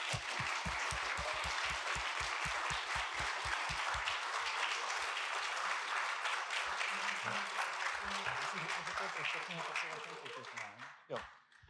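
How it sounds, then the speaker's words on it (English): Sustained audience applause at an awards ceremony, a dense steady clapping that runs nearly the whole time, thinning toward the end as voices emerge underneath. "Big applause again."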